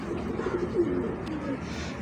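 Low, soft cooing of Dabawale pigeons rolls on steadily throughout, a close and continuous murmur with a faint background hiss.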